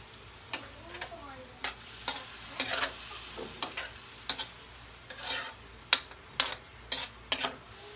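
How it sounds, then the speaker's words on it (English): Pork humba frying in a pan as vinegar is added, giving a steady close sizzle broken by a series of sharp clinks and scrapes from stirring, roughly a dozen distinct hits spread across the stretch. "And we add the vinegar."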